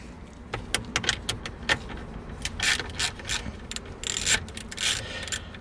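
Screws being worked loose from the radio of a 2004 Oldsmobile Alero, giving a string of short metallic clicks, rubs and rattles close by, irregular and fairly quiet, with no talking.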